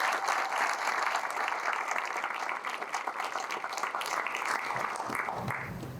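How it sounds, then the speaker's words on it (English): An audience claps for veterans at an evening gathering, dense sustained applause that holds steady for several seconds and then eases slightly toward the end. "Can we give them a round of applause again?"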